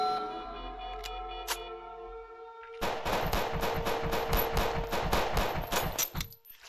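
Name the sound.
gunfire in video game Space Station 14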